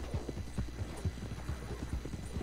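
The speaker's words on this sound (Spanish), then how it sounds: "Este caballo es escurridizo." Horse hooves gallop in Red Dead Redemption 2, giving a fast, continuous drumming of dull thuds at a steady running rhythm, close and prominent with no talk over it.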